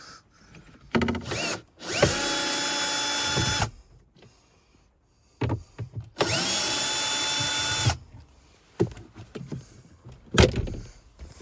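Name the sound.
removing two screws from Mazda 3 heater box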